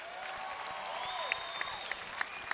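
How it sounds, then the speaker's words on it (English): Crowd at a fight-night event claps for a fighter's visiting team, a soft, distant wash of applause with a few sharper claps and whistles rising above it. "So can we give them a round of applause"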